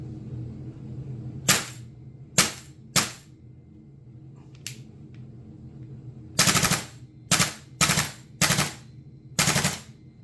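An airsoft gun fitted with an MWS buffer mod fires a series of sharp, loud single shots with uneven gaps between them, including a quick string of four close together near the end, over a low steady hum.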